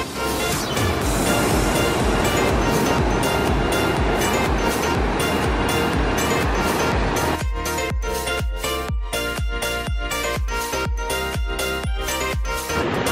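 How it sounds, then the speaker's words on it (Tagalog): Strong, large ocean waves crash continuously and loudly along a rocky coast at Cabongaoan in Burgos, Pangasinan, a roaring wash of surf with no pause. "Lakas na alon o yun. Malakas yan tol, malaki yan."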